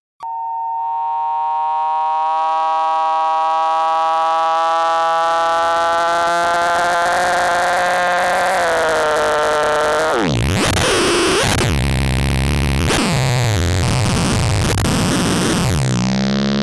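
A Synthesis Technology E330 multimode VCO sounds a steady harmonic wavetable tone that holds for about ten seconds, then bursts into loud, clangorous, warbling FM noise as a wavetable feeds its FM input, shifting and sweeping to the end.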